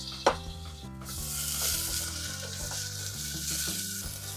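Ginger and garlic paste sizzles in hot oil with peppercorns, bay leaves and cardamom for tomato rice, a steady close crackling hiss beginning with a sharp splatter burst and holding loud throughout.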